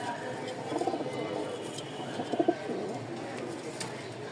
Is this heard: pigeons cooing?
yes